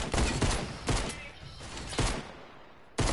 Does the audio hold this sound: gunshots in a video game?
yes